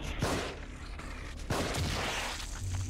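Gunshots in the horror video game The Evil Within: two sharp, loud bursts about a second apart over a dense, rumbling game soundscape.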